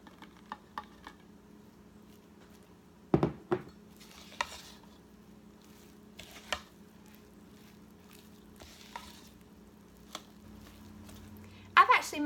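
Grated sharp cheddar and melted butter are folded into cheesy biscuit batter, with sparse, soft scrapes and light taps of a utensil against the bowl and quiet gaps between them.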